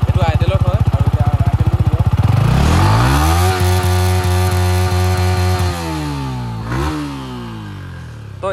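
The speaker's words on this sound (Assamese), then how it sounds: "তো ষ্টক এক্সহৰৰ যোনটো চাউণ্ড পূৰা স্মুথ আছে ন, পূৰা স্মুথ আছে।" A Yamaha R15 V4 motorcycle with its stock exhaust starts up and settles into a smooth, steady idle, loud and close, with a brief blip of revs.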